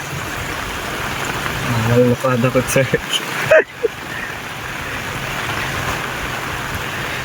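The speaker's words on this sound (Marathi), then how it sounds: "पावसाने मस्त एक हजेरी घेतलेली आहे" Steady rain hisses loudly and evenly throughout during village paddy transplanting, with a brief stretch of voices and a few knocks partway through.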